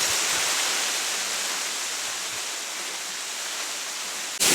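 A waterfall roars steadily on the Ha Giang Loop in northern Vietnam, a dense, even rushing of water heard close, unbroken for several seconds with no voices.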